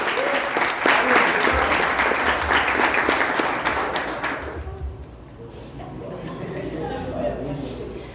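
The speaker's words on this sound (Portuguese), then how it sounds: "Uma salva de palmas para eles." A church congregation gives a round of applause, dense and steady for several seconds before fading, then voices murmur and talk in the room.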